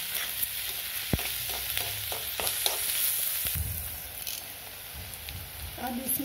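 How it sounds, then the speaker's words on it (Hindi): Chhata barbati seeds roasting in a pan until light brown give a quiet, continuous sizzle broken by occasional scraping stirs and light clicks. "हल्का ब्राउन होने तक इसको मैं थोड़ा भून लूंगी।"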